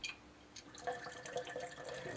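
Water poured from a container into a camping drink packet measured out in small amounts, giving soft trickling and dripping that come and go over a couple of seconds at close range, with no talk.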